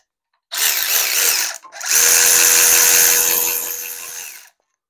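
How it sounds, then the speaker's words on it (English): An electric ratchet whirs loud and close while backing bolts out of an old lowrider hydraulic pump, two bursts split by a brief pause, the second running about two and a half seconds before stopping. "We're gonna go ahead and bring out our trusty electric ratchet."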